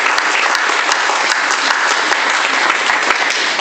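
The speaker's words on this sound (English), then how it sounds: "I think they deserve a round of applause" An audience at an accessible art event applauds the project team, loud, steady clapping from many hands filling the whole stretch with no pause.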